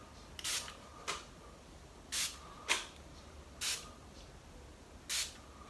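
Several short hissing bursts from a makeup setting spray bottle, spaced about a second apart, close and fairly quiet with no talking.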